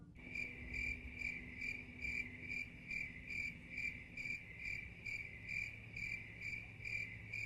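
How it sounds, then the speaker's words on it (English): Crickets chirp in steady, evenly spaced pulses during a quiet pause in a stage scene, with no talk and only a faint low background hum. "Crickets."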